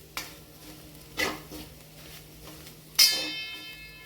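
A spoon stirs coriander powder into a hot tempering for tomato patal bhaji, with three sharp metallic scrapes and clinks against the pan over a faint sizzle, and no voices.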